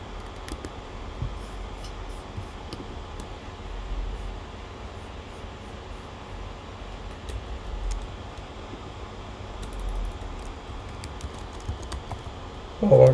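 Computer keyboard typing as PowerShell commands are entered on a Windows machine: soft, scattered key clicks over a steady low hum, faint and close, with a slightly louder burst of clicks at the end.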